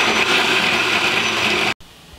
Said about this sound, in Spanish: Voy a licuar bajito porque está caliente el líquido.